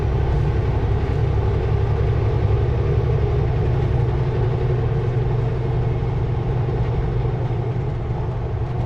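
A semi truck pulling Super B trailers climbs a mountain grade, its diesel engine giving a steady, heavy low roar heard from inside the cab with no letup.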